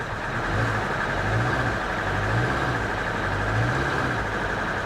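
A nearly new Kia Forte engine hums steadily up close, a broad even drone with gentle rising and falling swells as the car is put into gear and rolls, no voices over it.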